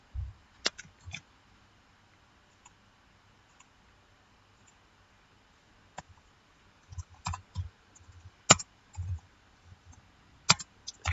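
Computer mouse clicks, sharp isolated snaps separated by pauses and then coming in a denser run near the end, close-miked against a near-silent background.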